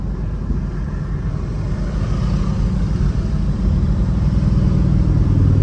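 Harley-Davidson motorcycles overtake on an open road, a loud, steady engine roar that builds gradually as the bikes pass close by, with no talking.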